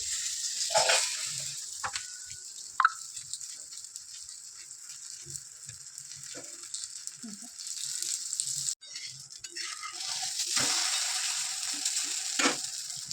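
Holige flatbread frying on a hot griddle: a steady, soft sizzle runs throughout, with a few louder scrapes and clatters breaking in at intervals.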